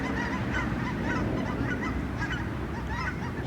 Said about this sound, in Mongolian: Галуу цаваа явж.